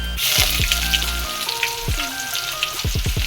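Chopped onion drops into hot oil for a green pigeon pea curry and fries with a steady crackling sizzle, stirring and tapping utensils over it, close and fairly loud.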